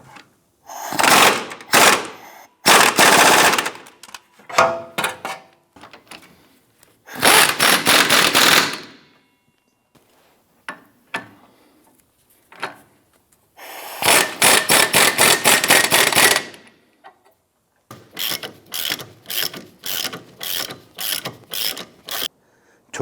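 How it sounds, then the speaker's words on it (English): Ratchet wrench tightening a bolt on a 2008-2013 Nissan Rogue rear suspension: repeated bursts of fast, loud metallic clicking, close up, separated by short pauses, with no talking. "and then we'll go ahead and tighten down the bolt."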